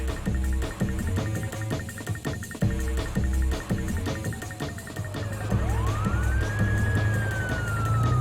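Police cars with wailing sirens chasing a tank through city streets, with rhythmic siren pulses over engine noise and a rising yelp near the end.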